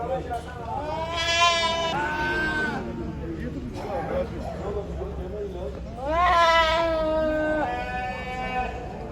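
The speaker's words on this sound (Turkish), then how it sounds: "Koyun." Sheep bleat loudly at a livestock market in two long, wavering calls with a shorter bleat between, over a murmur of background voices and farmyard noise.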